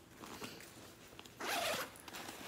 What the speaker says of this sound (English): And then you have your zipper closure.